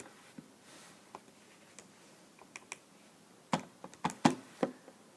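A few light plastic key presses on a calculator as an inverse cosine is entered: soft scattered taps, then a quicker cluster of sharper clicks near the end, close and quiet, with no talk.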